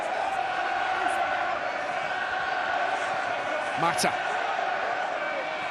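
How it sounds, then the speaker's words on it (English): Rugby match crowd at Saracens v Bristol Premiership game roaring in full voice, a steady loud stadium din with commentary running over it and a brief rising shout near the end. "Crowd in full voice."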